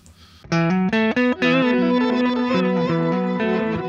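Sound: guitar through Neural DSP Archetype Petrucci with reverse effect

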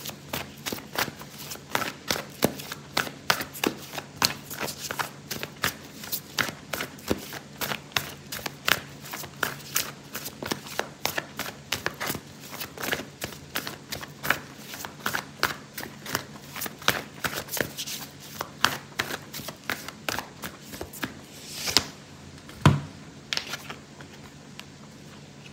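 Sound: shuffling oracle cards

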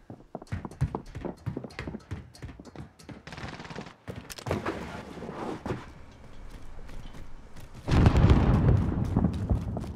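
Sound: pistol gunfire in the video game Warzone

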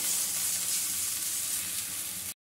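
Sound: spices sautéing in oil with asafoetida added

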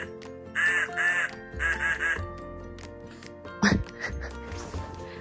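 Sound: duck quacking from sound book

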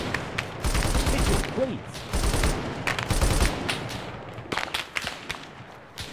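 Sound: gunfire

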